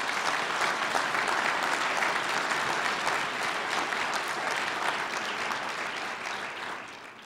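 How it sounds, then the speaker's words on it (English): Sustained, loud applause fills the hall during a State of the City address in Duluth, Minnesota, an even, dense wash of many clapping hands that fades slightly toward the end. "So let's give them a round of applause."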